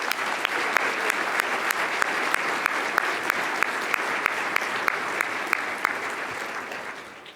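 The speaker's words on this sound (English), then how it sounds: "Please join me in another round of applause." Audience applause fills the room at a charity gala program, sustained clapping from a large crowd with sharp individual claps standing out, steady and fairly loud before tapering slightly at the end.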